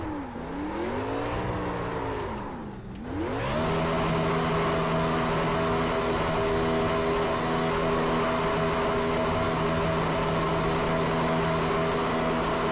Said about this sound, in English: I was trying to do some fun donuts.